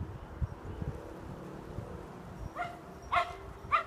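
Puppies near a creek give a few short yips and whimpers toward the end, faint against wind and outdoor rumble.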